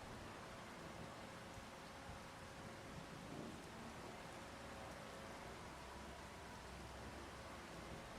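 Steady rain in the video game Farming Simulator 25, a soft, even wash of falling water that stays constant and faint throughout with no talk over it.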